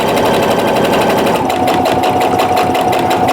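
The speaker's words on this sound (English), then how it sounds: "we're going to take it over and start sewing" A home sewing machine runs close up as it stitches a quarter-inch quilt block seam, giving a continuous rapid mechanical chatter with a faint high whine and no talking.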